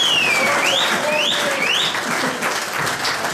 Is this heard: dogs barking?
no